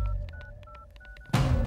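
A telephone number is dialed, a quick run of about ten evenly spaced touch-tone beeps at steady volume, followed by a sudden louder burst of noise as the call goes through.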